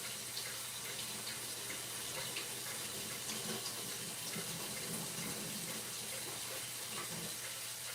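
Beans being rinsed under a running kitchen tap, a steady, continuous rush of water splashing without pause, moderately quiet and alone.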